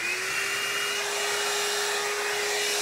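A hot air brush runs steadily while drying hair indoors, a constant close whooshing motor-and-airflow drone with a high whine, unbroken and alone for the whole stretch.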